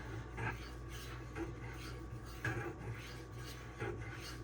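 Cold Steel Swift knife blade drawn across a DMD diamond sharpening stone, giving soft, dry rasping strokes at a steady slow rhythm, close and fairly quiet.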